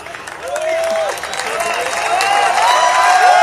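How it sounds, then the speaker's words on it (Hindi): Audience at a Hindi poetry recital (kavi sammelan) applauds and cheers, the clapping swelling louder over a few seconds, with a voice or sung tone rising above the crowd. "ये कम तालियां हैं मेरे लाल,"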